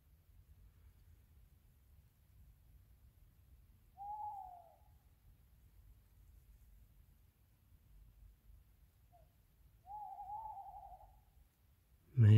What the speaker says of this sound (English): Just been woken by this owl.